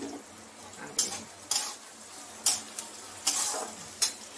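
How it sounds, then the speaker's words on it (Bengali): Meat cooks in a karai, a wok-style pan, with a soft ongoing sizzle and a series of sharp stirring scrapes and clinks every half second to second, fairly quiet and without speech. "মাংস বানাচ্ছি। এই যে কড়াইতে বসিয়ে দিয়েছি"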